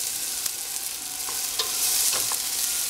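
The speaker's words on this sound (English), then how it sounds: "let them fry for a bit until the onions are a bit golden brown" Garlic and onions frying in a pan for Filipino spaghetti, a steady crackling sizzle with a few sharp spatter pops and scraping stir sounds, and no talking.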